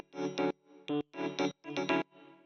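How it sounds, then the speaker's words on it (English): Ableton's EP Faceplant electric piano preset plays alone as a single layer, a few soft sustained chords in short blocks with brief gaps, clean and close, no processing or voices. "The first layer we have is this EP faceplant, which is actually one of Ableton's presets."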